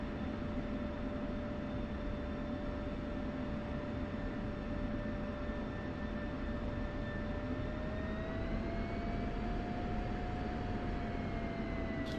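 Steady jet engine whine from a military aircraft taxiing in the DCS flight simulator, a continuous loud hum with high tonal lines that rise slightly in pitch near the end.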